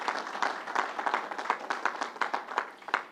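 Small crowd clapping at an outdoor gathering, a close, uneven patter of individual hand claps pulsing roughly three times a second, moderately loud with no talk over it.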